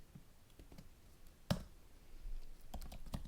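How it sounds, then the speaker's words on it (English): Typing on a computer keyboard while coding HTML and CSS: light, sparse key clicks, one sharper tap, then a quick cluster of keystrokes near the end, close but quiet, without speech. "So if we type section"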